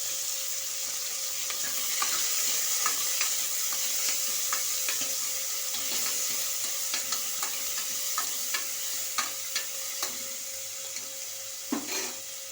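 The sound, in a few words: frying green chilies, tomato and onion in hot oil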